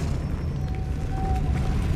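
A Depulso spell blast in the video game Hogwarts Legacy, heard as a loud, dense burst with a thick low rumble that holds steady across the clip, alone without talk.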